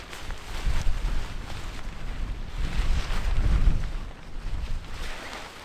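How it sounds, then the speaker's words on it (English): Strong wind gusts buffet a winter campsite with a pop-up tent, roaring and blustering against the microphone in surging waves that swell and ease over several seconds. "the gusts were absolutely insane"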